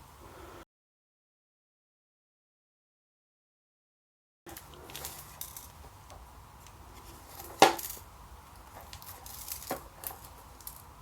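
A broken minidisc storage box is shaken, its loose pieces giving scattered light plastic clicks and rattles with one sharper knock, close and fairly quiet after a stretch of silence.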